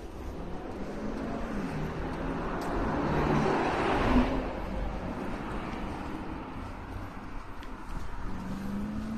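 Engine rumble of a bus arriving at a bus station near the Noor community, a low, steady drone that swells and passes around the middle, heard at moderate distance.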